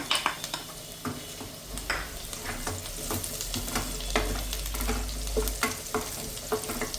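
Chopped garlic and dried chillies fry in a pan for a Tamil egg masala gravy, a steady crackling sizzle broken by spoon stirring and light clinks of cookware, close and alone with no voices.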